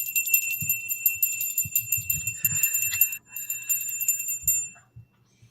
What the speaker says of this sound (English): I like my bells.